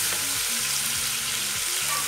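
Half an onion sizzling loudly in a hot frying pan while making homemade beans, a steady crackling hiss with faint low clinks of stirring.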